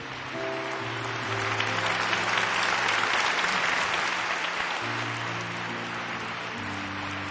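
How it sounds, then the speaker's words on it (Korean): A church congregation standing and clapping in blessing, a dense, sustained round of applause that swells in the middle and carries on steadily, with a faint musical tone beneath. "박수로 우리 축복하겠습니다"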